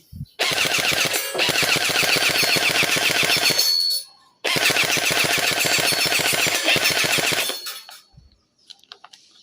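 A Suge AR15 gel blaster toy gun fired in long full-auto bursts, a rapid, loud mechanical rattle of blowback close by, with two sustained strings of shots separated by a short pause and a few scattered clicks at the end.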